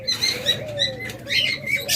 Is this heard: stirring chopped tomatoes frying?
no